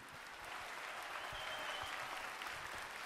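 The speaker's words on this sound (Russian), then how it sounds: "Ваши аплодисменты." Sustained audience applause at a televised talent show grand final, a broad dense crowd clapping heard from some distance, steady and fairly quiet throughout.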